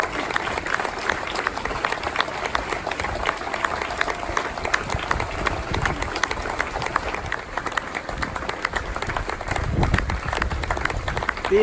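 A standing ovation for World War II veterans at a D-Day ceremony in France: a broad, continuous sheet of crowd clapping with slight swells, lasting nearly twelve seconds.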